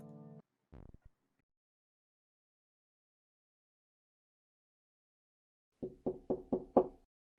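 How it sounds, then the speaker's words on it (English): Knocking on a door inside a video game, a quick series of five firm raps close together near the end, after a long silence broken by a few faint brief sounds at the start. "thought someone knocked at my door"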